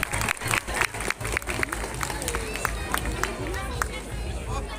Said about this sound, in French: Les gens peuvent les applaudir, croyez-moi, regardez l'âge